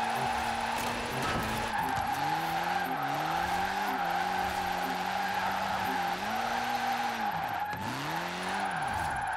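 Sustained tire skidding and a revving engine as a car holds long drifts in Forza Horizon 4, with the engine note rising and falling through several slides over about nine seconds, loud and continuous.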